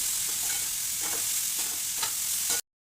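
Chopped cauliflower frying in a hot pan with salt and turmeric, giving a steady close sizzle with several soft stirring scrapes, then the sound cuts off abruptly at the end; no talking.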